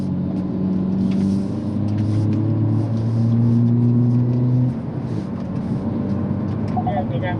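A Hyundai Avante N drives hard through corners, its engine and exhaust holding a loud, sustained drone that climbs and shifts in pitch under acceleration. Someone talks over the engine throughout.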